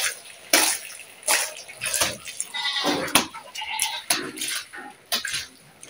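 Water is poured and splashed over a calf being bathed in hot weather. Wet splashes come in repeated bursts, mixed with nearby bleating.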